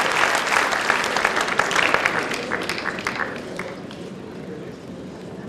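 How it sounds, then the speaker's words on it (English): A large crowd at a 1999 World Bowls singles match breaks into sustained applause, a dense patter of clapping that is loudest at first and gradually thins out over several seconds. "Acknowledge the applause of"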